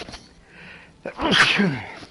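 A sneeze close up, with a short breathy build-up followed by a forceful burst that fades quickly, over faint background noise.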